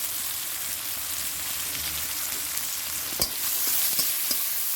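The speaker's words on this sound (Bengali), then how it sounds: "গোটা জিরে দিয়ে দিচ্ছি, এবার পেঁয়াজ দিয়ে দিচ্ছি।" Onions sizzle and crackle in hot oil with whole cumin seeds in a steady loud hiss, with a few sharp pops and stirring clatters near the end.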